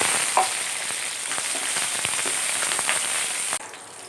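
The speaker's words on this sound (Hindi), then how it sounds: "शिमला मिर्च भून चुकी है," Capsicum (bell pepper) fries in hot oil with a loud, dense, continuous sizzle and crackle, and occasional stirring clicks run through it before the sizzle abruptly drops off near the end.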